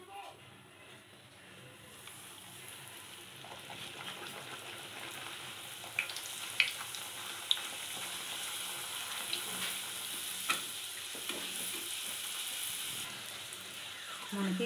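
Wheat-flour puri frying in hot oil in a pan, a steady sizzle and crackle with occasional sharp pops and splashes, heard close with faint voice in the background.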